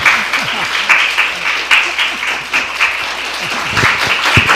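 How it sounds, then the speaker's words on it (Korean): Church congregation at a Sunday worship service applauding warmly for a returning member, steady clapping throughout with a murmur of voices underneath. "뜨거운 박수로 한번"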